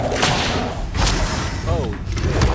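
Spell effects from Hogwarts Legacy, Levioso, Accio and Incendio cast in quick succession: whooshing magical bursts and thudding impacts under steady game music and a player's voice.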